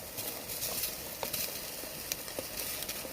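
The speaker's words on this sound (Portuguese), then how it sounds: "Não é churrasco não, mas é óleo chiado." Calabresa sausage frying in oil in a pan over a campfire, a steady close hiss and sizzle with scattered crackles and pops throughout, no voices.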